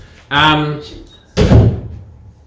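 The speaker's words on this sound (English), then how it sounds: "Sorry, Dave, just shut that door" A door shuts twice in a room, a scraping creak followed by a heavier thudding close, near and loud, with a voice heard between the sounds.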